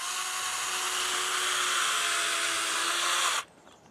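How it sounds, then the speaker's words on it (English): Power drill boring a hole in the ground for a turkey decoy stake, a steady high whine running loud and close for about three seconds before cutting off abruptly. "drill you a hole in the ground"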